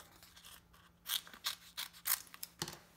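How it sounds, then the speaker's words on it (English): Scissors snip through glimmer paper around a die-cut shape in a series of crisp, close cuts, several quick snips with short pauses between them. "And then I like to just cut out where my paper is."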